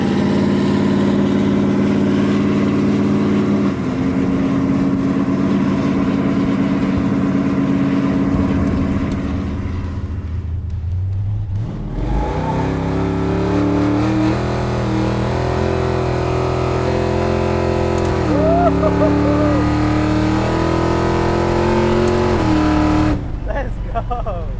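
A 600 HP big block 1970 Chevy Nova SS drives along with a loud, rumbling engine that shifts and pulls through gears, running steadily under and between people talking.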